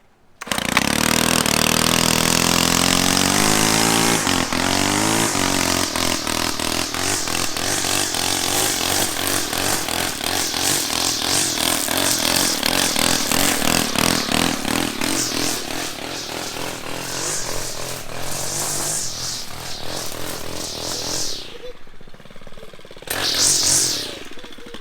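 A repaired weed eater runs loud and close for over twenty seconds, its two-stroke engine buzzing steadily with revving surges while the line cuts into brush, easing off near the end before a brief final rev.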